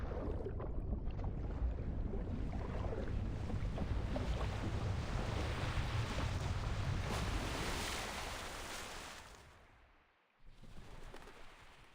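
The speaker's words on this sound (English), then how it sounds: "The waves are gently washing over the body." Ocean waves wash over a beach on a strange island in the video game Reverse: 1999, a continuous broad roar of surf that swells and then fades briefly before resuming, with no speech.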